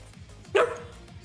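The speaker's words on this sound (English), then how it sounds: "I'm jealous of your bark." A single dog bark, close and fairly loud, rises briefly out of a quiet room background with no one talking.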